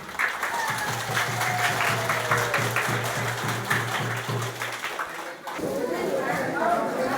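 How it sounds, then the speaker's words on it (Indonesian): A crowd at the regent's working visit to Kampung Terpones in Towe Hitam district claps steadily and fairly loudly for several seconds, with a low steady hum running beneath and a brief lull near the end. "tepuk tangan untuk Pak Bupati."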